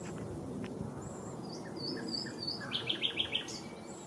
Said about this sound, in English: Another bird is the great tit, which is very common in the area.